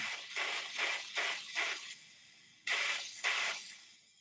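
A home espresso machine's steam wand hisses in short, loud bursts close by: five quick blasts in a row, a pause, then two more, with no talking.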